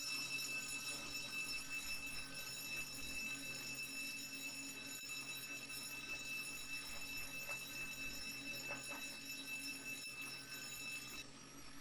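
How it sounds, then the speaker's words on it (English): A jewellery store alarm going off in the Roblox game ER:LC, a steady high electronic ringing that sounds continuously for several seconds over low background noise, with no talk. "the alarms still go off"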